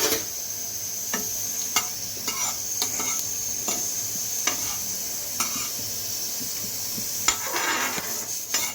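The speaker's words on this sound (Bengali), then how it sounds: "দুটো শুকনো লঙ্কা আগে ভালো করে ভাজা হোক" Two dried red chillies fry in hot oil in a pan, giving a steady close sizzle with sharp intermittent ticks and scrapes from stirring and utensils, with no voices present.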